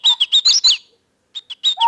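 Common cranes, grey-plumed with a red forehead patch, migrating overhead: a quick series of five bright calls, a short pause, then three more, clear and fairly close with no other sound.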